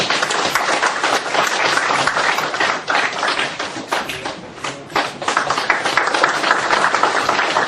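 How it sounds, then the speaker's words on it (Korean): Audience at a philosophy colloquium lecture applauding as a professor is called to the front, loud, dense clapping that holds steady for several seconds, with a few sharper individual claps standing out. "큰 박수 부탁드립니다."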